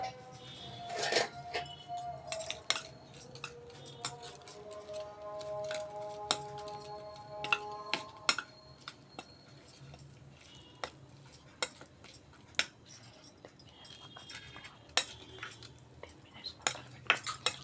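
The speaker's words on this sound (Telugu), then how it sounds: "మళ్ళీ అన్నీ స్పూన్ తోటి మిక్స్ చేసుకోవాలి." A spoon works through raw chicken pizza topping with a little oil in a bowl, giving scattered metallic clinks and scrapes against the bowl over steady background hum.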